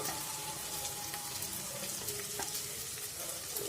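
Turmeric powder sizzling in hot oil for a Bengali katla fish curry, a steady close frying hiss that holds throughout with no talk.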